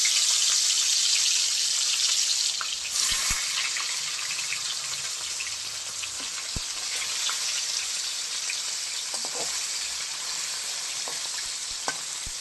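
Tilapia fish fry in hot oil in a pan, a loud, steady, close crackling sizzle that runs throughout with occasional small pops and clinks, and no talking.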